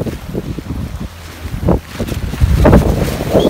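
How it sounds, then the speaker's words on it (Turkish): Strong, gusty wind on a grassy cliff top above a mountain valley buffets the microphone with a continuous loud roar and rumble. It swells and eases in waves, with no talking. "Aynı zamanda felaket rüzgar var arkadaşlar."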